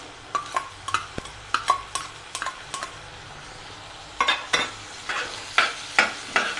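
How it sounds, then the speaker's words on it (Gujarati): Green garlic and onion sauté in a pan for a green chickpea curry, with a steady soft sizzle beneath a rhythmic series of close spatula scrapes and stirs. "લીલું લસણને પણ થોડું સાતળી લેશું"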